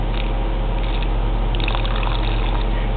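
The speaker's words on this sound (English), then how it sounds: "So, we're going to water Ellison." Water trickles and pours steadily into a tarantula enclosure, a continuous close splashing wash that runs unbroken the whole time.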